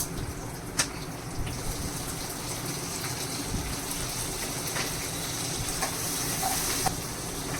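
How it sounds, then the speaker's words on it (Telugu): Tomatoes fry in a pan of hot oil with curry leaves for pappu charu, making a continuous moderate sizzle and hiss with a few faint clicks from stirring. "టమాటాలు వేస్తున్నాను నేను"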